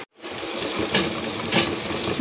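An electric sewing machine stitches a fall onto a saree, its steady close mechanical whirr running continuously with a few brief rhythmic surges, with no talking over it.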